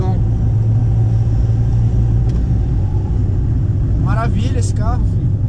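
A new car pulling away in second gear, its engine running with a steady low rumble throughout; brief voices come in near the end.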